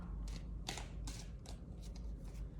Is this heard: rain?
no